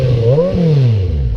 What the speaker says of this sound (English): let's let you hear the ShockofGod exhaust